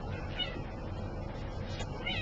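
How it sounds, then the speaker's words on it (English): A cat meows in short, high, wavering calls against a steady, busy background murmur, with a clearer cry near the end. "There's a cat."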